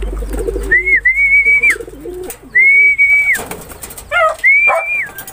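Pigeons coo close by in a loft, with several drawn-out whistling coos and some softer rumbling calls in between, loud and with no talking.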